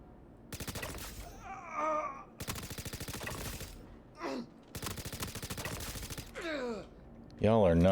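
Rapid automatic gunfire in a shooter video game, three loud sustained bursts near the mic separated by short gaps, with game voices and grunts between them.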